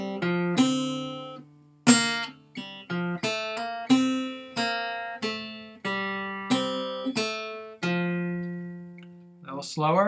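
A fingerpicked guitar plays a Musette melody line alone, a steady run of plucked notes each ringing and decaying clearly, moderately loud and close, with no talking over it.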